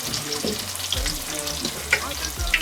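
Indian snack batter frying in hot oil gives a loud, close, continuous crackling sizzle, with a few brief clinks and watery splashes rising over it.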